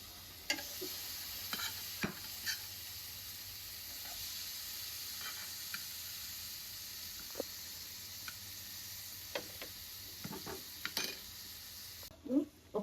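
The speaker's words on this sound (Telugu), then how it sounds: "పైనాపిల్ పీసెస్ని నేను సిమ్లో పెట్టుకొని అటు ఇటు కాల్చుకుంటానండి" Pineapple pieces grill in butter over low heat, giving a steady soft sizzle throughout with occasional faint clicks and scrapes from turning the pieces.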